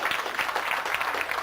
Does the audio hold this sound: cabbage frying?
no